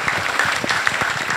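Dense, steady applause from an audience at the inauguration of a church in Goyave, a continuous patter of many hands clapping close by throughout.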